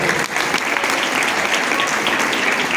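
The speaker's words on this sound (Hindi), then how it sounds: "माँ के लिए तालियां बजती रहनी चाहिए।" Sustained audience applause at a girls' school function in Shamli, steady and dense throughout with many hands clapping together, no speech.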